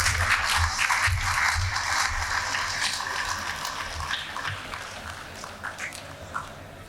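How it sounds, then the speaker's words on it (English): An audience at a youth environment startup summit applauds the finalists with a dense wash of clapping, loud at first and slowly thinning as it fades. "A big round of applause will help them."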